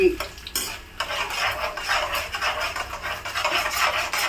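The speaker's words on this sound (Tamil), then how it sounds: "ஜீரம் எல்லாத்தையும் போட்டு வறுக்கிறேன்" Cumin seeds fry in hot oil in a pan, a close, bright sizzle with spoon stirring and scraping against the metal pan, steady and continuous without talk.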